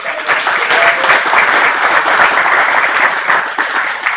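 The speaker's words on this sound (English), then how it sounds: "One more round of applause for those folks for coming" An audience applauds presenters after two talks at a recycling meeting, a steady dense clapping from a roomful of people that holds at an even level for about four seconds.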